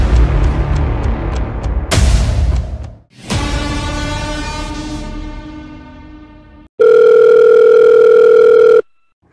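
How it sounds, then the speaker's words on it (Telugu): A telephone rings out before a call is answered: a loud, steady electronic tone that sounds after some clattering and whooshing noises, then stops abruptly. "హలో వినయ్, ఏంటి కాల్ చేసావు?"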